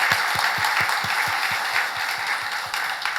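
Church congregation clapping in blessing during a Korean worship service, a steady wash of many hands with a strong rhythmic pulse of unison claps about three per second, moderately close.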